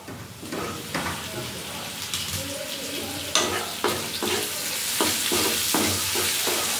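Tomatoes hit a pan of frying onions for an egg curry, raising a bright sizzle, followed by a run of sharp spatula scrapes and stirs close up over steady frying.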